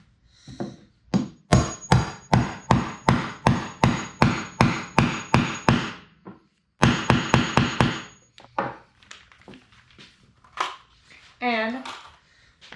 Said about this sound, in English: you hammer it on down.